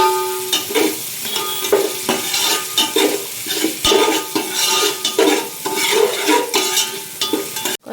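Ginger garlic paste frying in a pan for biryani, a continuous sizzle with regular metallic stirring scrapes and clinks, close and fairly loud, no voices.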